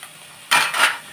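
Chopped potatoes poured into a pan of frying onions, a sudden loud rattling clatter and sizzle lasting about half a second, with a second surge right after, following quiet background.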